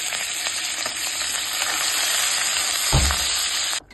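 Curry leaves fry in hot oil with a bright, continuous sizzle and scattered spits, a brief low thump near the end before the sound cuts off abruptly.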